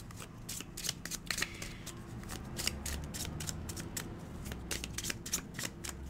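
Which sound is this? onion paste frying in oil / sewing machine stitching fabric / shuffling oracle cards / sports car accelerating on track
shuffling oracle cards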